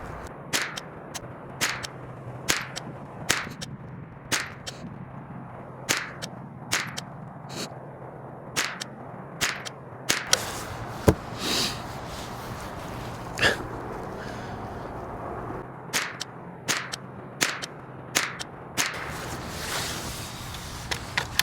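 A 10/22 rifle with a Ballistic Advantage replacement barrel fires RWS Rifle Match .22 ammunition, sharp cracks in spaced strings of roughly five shots each, loud and close, with faint background noise between shots.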